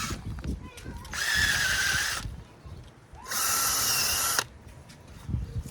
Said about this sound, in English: I'm gonna go ahead and just grab my auger bit, go down a little bit, do all 4 corners.